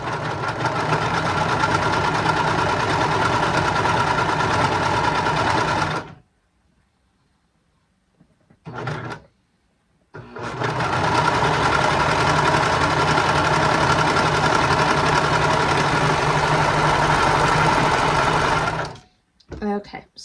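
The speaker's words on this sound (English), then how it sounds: "So we got this, and then we're going to go ahead and sew." A sewing machine stitches a seam on a romper, running loud and steady for about six seconds, stopping, giving a brief burst, then running again for a long even stretch before halting.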